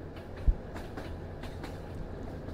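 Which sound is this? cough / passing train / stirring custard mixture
passing train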